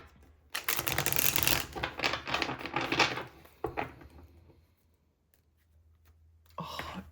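Tarot cards being handled at close range, a dense run of crisp flicking and shuffling taps that thins into a few scattered clicks before a quiet stretch and a final brief rustle.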